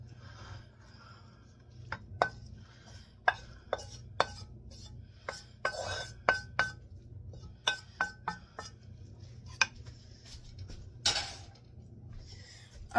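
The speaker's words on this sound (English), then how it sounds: "Just gonna toss it into the casserole dish" Tater tot casserole ingredients tossed into a casserole dish, heard as a series of sharp clinks and clatters of utensils against the dish, spaced irregularly over a quiet steady hum.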